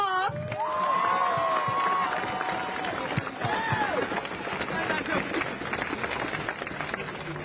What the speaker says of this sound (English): Let's give Tanya another round of applause.